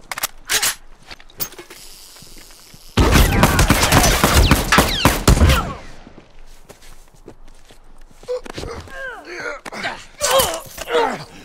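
Rifle gunfire rings out during a Supply Raid match on the Checkpoint map in the video game The Last of Us Remastered. Sharp scattered shots frame a dense, loud burst of fire, with footsteps and clatter in between.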